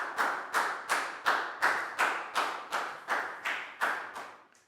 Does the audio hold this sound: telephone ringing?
no